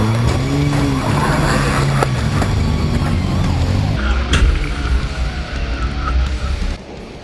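Video game auto soccer match in an arena: loud continuous engine roar with a sudden crash-like burst midway, the cars rumbling on afterward.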